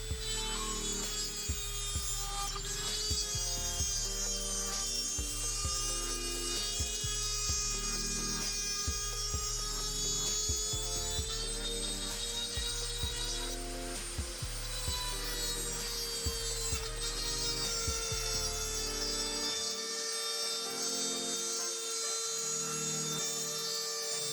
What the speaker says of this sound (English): You need to use your little milling bit. And you're just going to go ahead and cut.